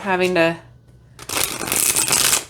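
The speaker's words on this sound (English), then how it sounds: "Yeah, it shuffles just fine." Coated playing cards being shuffled up close, a dense riffling flutter that fills the second half after a brief spoken phrase.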